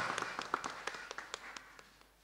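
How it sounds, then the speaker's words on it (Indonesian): Faint scattered clapping from a small crowd at a welcome speech at TMII, with individual claps distinct at first and fading over a couple of seconds. "Tepuk tangan"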